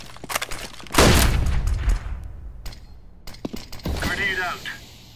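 A flashbang grenade and gunfire in a bomb-planting shooter game: a loud burst around one second decays over a couple of seconds, followed by scattered sharp shots and mechanical clicks, with game voice lines mixed in.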